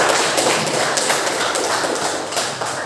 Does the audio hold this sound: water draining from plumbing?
no